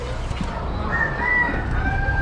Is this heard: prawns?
no